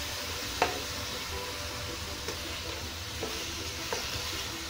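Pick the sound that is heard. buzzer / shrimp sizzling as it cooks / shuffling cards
shrimp sizzling as it cooks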